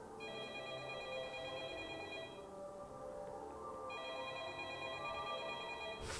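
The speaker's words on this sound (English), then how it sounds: "Phone call." A telephone rings inside the Backrooms video game, sounding as two long electronic ringing bursts split by a short gap, over steady low ambient hum, with no talk.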